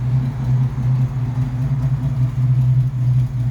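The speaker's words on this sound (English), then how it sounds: "As you can probably hear, it's not running great. Exhaust is a little loud." An old Jeep Wrangler YJ engine idling roughly with a loud, deep exhaust rumble from a faulty exhaust, steady and close, with a slightly uneven pulse.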